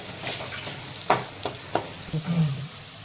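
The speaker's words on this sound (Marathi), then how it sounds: "तर तेलामध्ये ना छान असं परतून घ्यायचंय, एकदम शिजून असं म्हणजे घ्यायचंय" Bitter gourd fries and sizzles in hot oil with turmeric and salt, a steady close crackle broken by a few sharp stirring clatters of the spoon against the pan.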